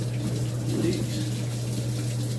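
Cold water running into the drum of a Samsung top-load washing machine, a steady rushing flow over a constant low hum, with a person talking briefly.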